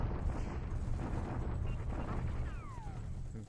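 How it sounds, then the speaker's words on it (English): Artillery bombardment in the wartime strategy game War in the Pacific, set in Burma: a steady rumbling wash of distant booms and blasts, heavy and low, with a brief whistling streak near the end. "Allies are bombarding in Burma now."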